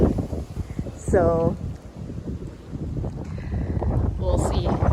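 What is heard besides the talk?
strong wind near Tokyo Tower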